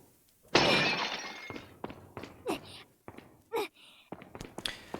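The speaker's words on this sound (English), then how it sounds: "Lot of vases to smash in this room" Vases smash in the video game Resident Evil 4, starting with one loud, close crash of breaking pottery, followed by lighter knocks and a few faint groaning vocal sounds.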